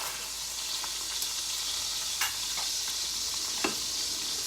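Thin-sliced boneless chicken breast sizzles steadily in a pan, a constant close frying hiss with a few sharp pops and crackles scattered through, no talking.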